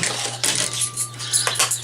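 Plastic food container lids, including a KFC takeout lid, are rummaged close by, clattering in a quick series of light clicks and knocks with no speech.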